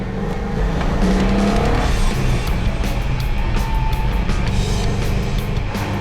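A 1969 1/2 Dodge Super Bee muscle car, once raced at the drag strip, runs with a loud, steady, rumbling engine note that holds throughout, dense and close with no speech.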